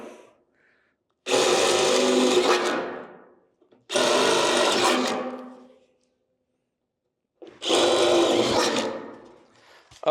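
Drill boring a 3/16 inch hole in a 1965 C10 truck hood hinge: three separate bursts of whining, grinding drilling, each about two seconds long, close and loud, with silent pauses between them.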